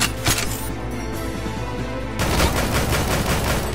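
Gunshots in the zombie video game Dead or School, a dense burst of repeated fire starting partway through after quieter game sound, loud and close.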